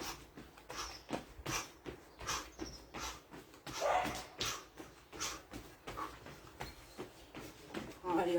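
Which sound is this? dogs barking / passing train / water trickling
dogs barking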